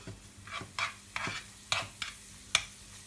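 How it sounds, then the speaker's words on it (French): Shallots sweating in melted butter in a pan, with a gentle sizzle under several close, irregular scrapes and taps of a utensil stirring against the pan. "on rajoute des échalotes et on va les faire suer"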